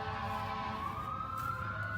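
A wailing fire truck siren rises steadily in pitch, distant and continuous over a low background rumble, in Corydon, Indiana.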